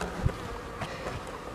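Honey bees in a spring apiary hum faintly and steadily, a soft insect drone with a few brief closer buzzes passing by, no voices.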